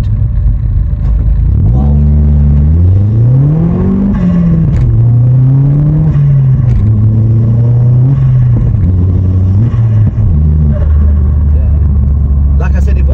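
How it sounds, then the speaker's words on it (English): Stage 2 modified Vauxhall Astra VXR engine revving loudly and repeatedly, its pitch climbing and falling through several rises over a deep steady rumble, close up, with a brief exclamation from a voice. "Sound compilation of this car"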